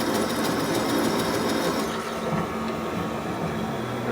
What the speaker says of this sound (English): Drilling good.